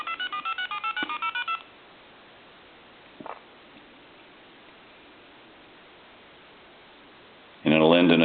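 AT&T Trimline Model 210 telephone redialing: a rapid string of about eight DTMF beeps, then near silence with a faint click, before a loud steady dial tone swells in at the end.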